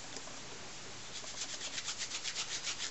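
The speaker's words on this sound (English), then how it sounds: "this little Rubbit Scrubbit, which looks a bit like a scouring pad and doesn't look like it would do much, is absolutely brilliant for getting stamps clean" A rubber stamp being scrubbed clean on a damp Rubbit Scrubbit scouring-style pad, with soft steady rubbing that turns into a quick rhythmic back-and-forth swish, close and fairly quiet.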